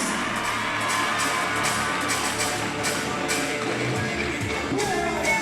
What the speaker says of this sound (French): applaudissez Pascal Larichesse